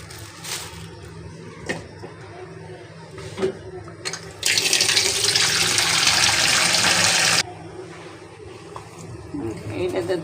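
Tap water gushes over eggs being washed at a kitchen faucet, a loud, steady rush lasting a few seconds between quieter handling clatter.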